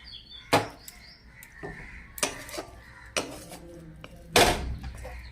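Cooked taro leaves (kochu shak) are spooned from a pan into a bowl: four separate sharp metal clinks and scrapes, spaced out, close and fairly loud, with quiet between them.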